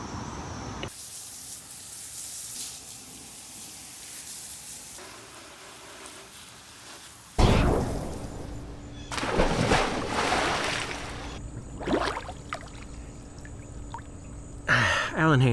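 Water splashes as a hose rinses a person's legs and a lawn spreader outdoors after a granular product was applied to wet grass. Loud spraying and pouring bursts start midway and come in uneven waves after a quieter, hissy opening.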